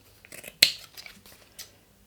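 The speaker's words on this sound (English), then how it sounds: "I'm going to trim the bottom as well." Scissors trimming the fabric seam of a small sewn pouch: a few quiet snips close by, one sharper crisp cut standing out among softer ones.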